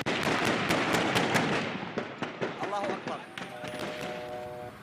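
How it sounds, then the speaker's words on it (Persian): Gunfire from Kurdish forces in a besieged Syrian town, a rapid burst of sharp, loud reports followed by scattered, fainter shots, with someone speaking over it and a brief whistling tone near the end. "همزمان صدای تیراندازی نیروهای کرد شنیده می‌شود."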